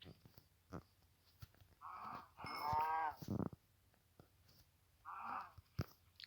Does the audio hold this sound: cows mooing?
yes